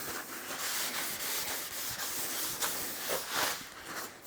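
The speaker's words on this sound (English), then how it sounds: "gray Scotch-Brite is a little bit like a magic trick for machine cleaning" Gray Scotch-Brite scrubs across a Deckel 380mm rotary table in rhythmic, close, raspy strokes, a steady back-and-forth abrasive rubbing with no talk.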